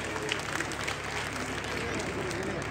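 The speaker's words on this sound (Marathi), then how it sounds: "एकदा जोरात टाळ्या त्यांच्यासाठी झाले पाहिजे." Audience applause for the Maharashtra police at a Home Minister Khel Paithanicha game-show event in Shrirampur, a steady dense wash of clapping throughout, fairly soft and distant, with voices mixed in.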